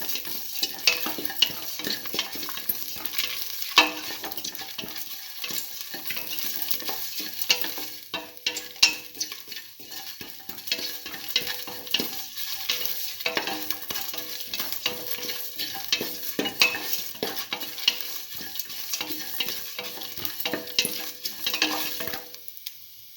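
Garlic, salt and meat frying in a pan for a mint potato stew, sizzling steadily with repeated stirring scrapes and occasional utensil taps, close and clear, no talk throughout.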